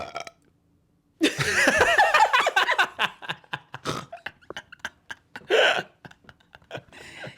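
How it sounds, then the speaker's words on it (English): A person belches in a long, croaky burp, followed by a string of shorter gulping hiccup-like burps and a final louder one, close to the microphone with brief laughter between. "So, I was burping."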